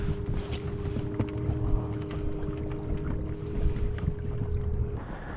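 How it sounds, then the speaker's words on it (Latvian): A fishing boat glides on a lake under a Minn Kota electric trolling motor, a steady low whir with a thin tonal hum, plus water lapping and wind buffeting the microphone, no speech. "šobrīd var redzēt minkotu visā darbībā"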